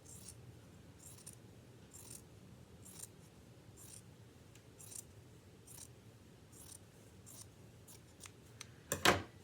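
Scissors trimming excess thread along a sewn apron neck strap: a quiet, regular series of crisp snips repeating roughly every half second up close, ending with a louder clatter.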